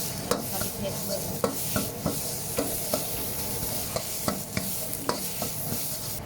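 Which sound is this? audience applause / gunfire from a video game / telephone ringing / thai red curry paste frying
thai red curry paste frying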